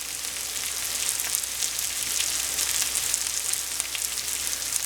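Fried rice with Spam and mushrooms cooking in a pan, giving a steady, close crackling sizzle with no talk over it.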